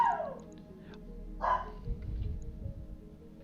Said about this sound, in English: You'll have to excuse my dog, she's nuts.